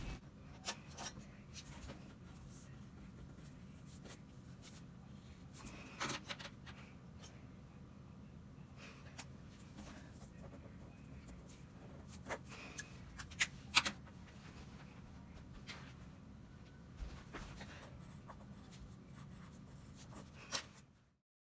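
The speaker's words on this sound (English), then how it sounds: "here I'm just writing out some mechanical pencils and black pens" Mechanical pencils and black pens scratch across paper in a steady, close, quiet stream of small strokes and taps, with occasional louder clicks and rustles.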